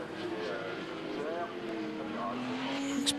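Porsche 917 race car passing at the Le Mans Classic while being pushed hard, its engine a continuous high-pitched drone with rising and falling pitch over a short pass.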